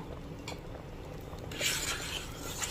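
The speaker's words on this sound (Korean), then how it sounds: "이렇게 저어줍니다." Strawberry jam cooked with sugar being stirred with a long wooden spatula, soft scraping and bubbling pan sounds that grow louder and brighter midway through, close and without talk.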